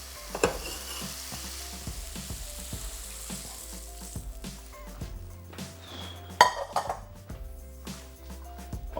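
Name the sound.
dishing out cooked chickpeas from a pan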